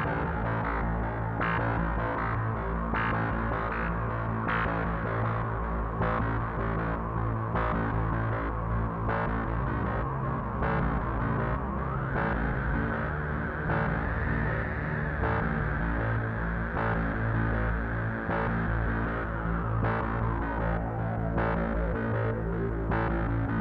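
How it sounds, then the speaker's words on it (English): A rotary grinder works steadily on the ridges of a scale model Space 1999 Eagle transporter module, a continuous close droning whine whose pitch rises and falls slightly across the pass, with no voices. "So what I'm doing here is just marking out where I need to grind down the bits."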